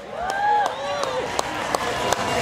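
A concert crowd at a live show cheers and whistles for the orchestra while a few sharp, scattered claps ring out near the microphone.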